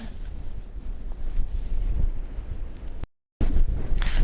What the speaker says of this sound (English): Well, it got windy